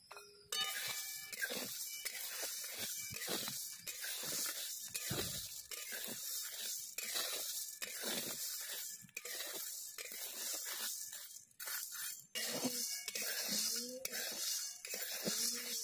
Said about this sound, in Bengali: কড়ার মধ্যে সাবুদানা দিয়ে দেব।